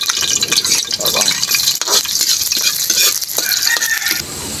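Garlic sautéing in a hot pan for a Filipino dinuguan with ampalaya, loud close sizzling and frying with a utensil scraping and stirring, a brief voice at the edge.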